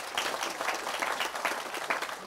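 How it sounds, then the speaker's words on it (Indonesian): Audience applause at a Mocopat Syafaat gathering, a steady wash of many hands clapping at moderate, even loudness from a sizeable crowd throughout. "tepuk tangan untuk beliau"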